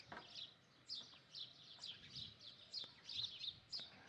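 Small birds chirp and tweet in a morning outdoor setting, a steady scatter of short bright calls repeating every half second or so, fairly faint and distant with no voices.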